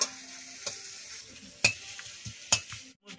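Pork pieces fry in a pan for a village-style curry, a soft continuous sizzle broken by several sharp scraping clacks as a spatula stirs, ending in a short pause.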